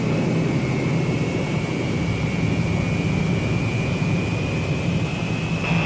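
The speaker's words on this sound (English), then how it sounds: "Once you're lined up on the runway, all you need is a final check and power for the takeoff roll." Jet engines of a Boeing B-47 Stratojet bomber roar at takeoff power on the runway, a loud, dense, continuous rush with a steady high whine running throughout, close and unbroken.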